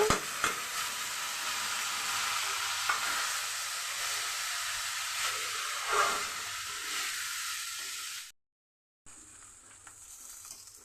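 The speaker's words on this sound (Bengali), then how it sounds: "চালটা একটু ভালো করে ভেজে নিতে হবে" Raw rice is stir-fried in a pan over tempered whole spices (cloves, black pepper, shahi jeera) for paneer pulao. A soft, steady frying hiss carries occasional scraping clicks, then cuts out briefly near the end.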